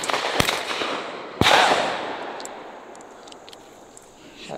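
Two sharp shotgun blasts ring out during a dove hunt in a Mississippi field, about a second apart, each trailing off in a long outdoor echo.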